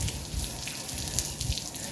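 Water runs steadily from a tap while a charpai is being washed, a constant close splashing and trickling flow.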